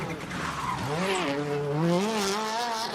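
A 2001 Ford Focus rally car is driven hard out of a hairpin, its engine revving up and down through rising and falling pitch while tires squeal and skid, loud and close throughout.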